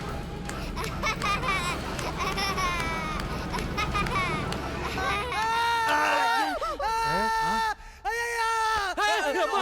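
A man screams in fright as he runs away, giving shrill, wavering cries that climb and fall in pitch. They rise loud over a busy comedy-film soundtrack with other voices underneath.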